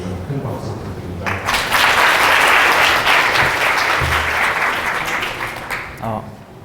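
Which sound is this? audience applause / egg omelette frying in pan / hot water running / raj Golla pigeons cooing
audience applause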